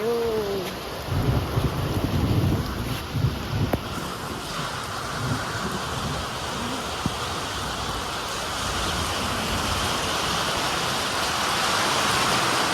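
A thunderstorm with heavy rain pours down steadily on a village during summer, with a low rumble of thunder early on and a loud, continuous hiss of rainfall throughout.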